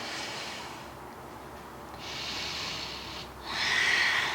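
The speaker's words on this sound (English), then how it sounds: "Take a full inhale." Slow, breathy nasal inhales during a yoga flow before a forearm plank, soft and close, rising in two hissy swells with quiet pauses and no talk.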